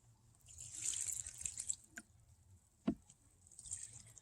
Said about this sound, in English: I'm going to put a little extra water in this compost bin.